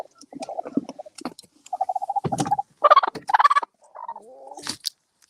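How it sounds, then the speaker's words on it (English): Broody hen in a garden making a run of agitated, rapid clucks and throaty gobbling calls, close and loud, in several bursts with brief pauses between. "She is the world's most broody hen ever."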